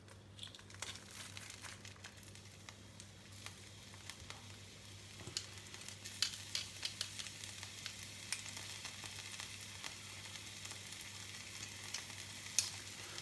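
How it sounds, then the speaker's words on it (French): Crushed garlic sizzling in hot olive oil, a faint, crackly fry with scattered pops and crinkles that grow busier in the second half, heard alone under a low steady hum. "je fais chauffer de l'huile d'olive. Je mets de l'ail écrasé."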